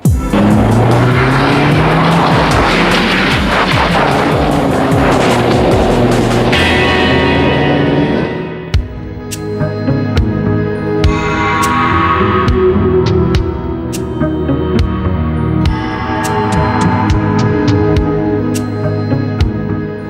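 A car is driven hard and fast, with its engine roaring loudly and tires squealing through turns. The sound shifts partway through to repeated revving bursts and further skids, heard up close with no talking.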